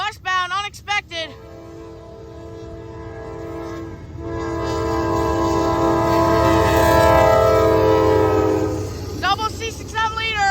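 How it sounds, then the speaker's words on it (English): A Norfolk Southern 15T westbound freight train sounds its horn in a long, loud, sustained blast over the rumble of the passing train on a rainy night, with someone talking briefly before and after. "We got a train."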